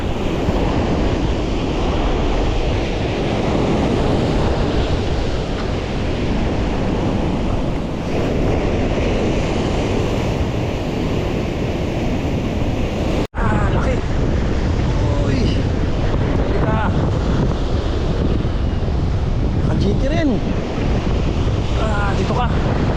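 Ocean waves surge and crash continuously after a monsoon, heavy surf with strong wind buffeting the microphone, a brief dropout midway, and faint voices at times.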